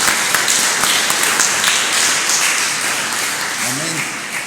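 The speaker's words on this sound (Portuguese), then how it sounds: "Os aplausos sejam para Jesus" Congregation clapping during a family church service, a dense wash of hand claps that slowly fades, with a voice speaking briefly near the end.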